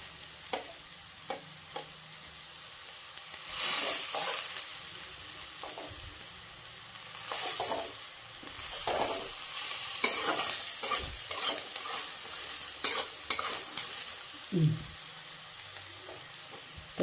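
Potatoes fry in hot oil in a pan while a utensil stirs them, giving a steady sizzle broken by repeated scraping strokes that grow louder midway, with no talking.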